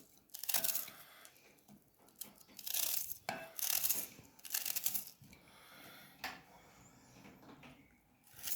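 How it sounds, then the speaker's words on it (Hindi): Knife finely chopping onion on a board, a run of short crisp cuts coming in quick bursts with brief pauses between them, close and fairly quiet. "इस तरह छुरी की मदद से हमने छोटे छोटे कट लगा लेने हैं बिल्कुल बारीक से।"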